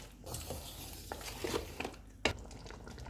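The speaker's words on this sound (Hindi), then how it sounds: "काली मिर्च डालेंगे, नमक, इनको मिक्स कर देंगे।" Chicken being mixed with black pepper and salt in a karahi pan, with soft stirring scrapes and a few metal clinks of the spoon against the pan over a faint sizzle, close and fairly quiet.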